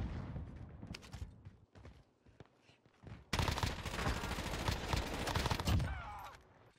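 Pistol gunfire in Call of Duty Warzone (Cold War era): after a quieter stretch of faint in-game noise, a loud, dense run of rapid shots bursts in close by and keeps going for several seconds.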